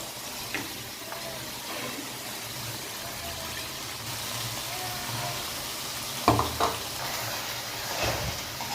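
Cashew paste frying with spice paste in oil on a low gas flame gives a steady soft sizzle and hiss throughout, with a few brief stirring scrapes near the end.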